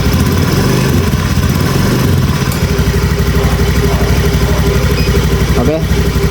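Motorcycle engine idling steadily in test mode, a loud, close, continuous mid-low drone with a faint irregular sputter, the bike having been hesitating and stuttering when ridden.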